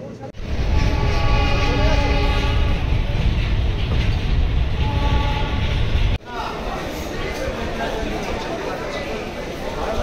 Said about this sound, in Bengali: বেলডাঙ্গা স্টেশনে ধন এক্সপ্রেস ঢুকছে আর এই ট্রেনে যাব আমরা কলকাতায়।